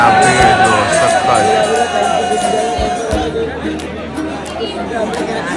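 A large crowd of devotees chatters and murmurs outside a Hanuman temple before the 5 o'clock aarti, a dense continuous babble with scattered louder calls and a brief whoop-like shout.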